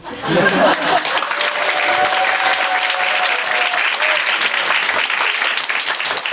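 Loud, dense applause from a large audience, sustained evenly throughout with a few faint voices mixed in.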